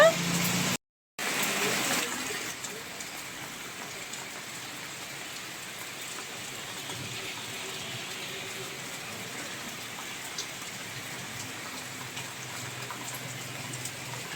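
Heavy rain hisses steadily on surfaces, a dense continuous downpour after a brief cut near the start.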